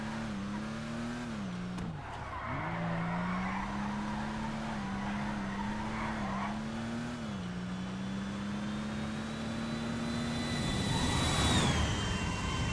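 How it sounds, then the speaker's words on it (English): A Nebula Turbo drift car in GTA Online holds a long, steady engine drone while tires squeal through a drift, rising to a louder screech near the end, with no talk. "We just did a nice drift."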